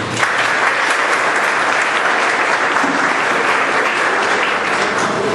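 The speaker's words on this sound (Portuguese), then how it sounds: "Então vou pedir uma salva de palmas para o Maurício." A seated audience at a Spiritist lecture on charity and social assistance breaks into loud, steady applause, a dense wash of clapping that holds evenly for several seconds with no voices on top.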